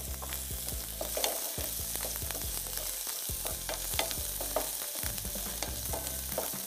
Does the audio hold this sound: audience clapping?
no